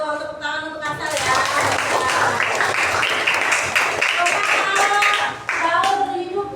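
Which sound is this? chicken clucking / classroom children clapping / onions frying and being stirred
classroom children clapping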